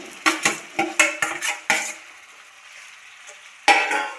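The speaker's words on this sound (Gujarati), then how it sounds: "હવે આપણે બટેકા નાખી દઈશું કટ કર્યા હતા ઈ।" Cut potatoes are tipped into a spiced masala in a pan and stirred, making a quick run of close metallic scrapes and clanks, a short lull, then one more clatter.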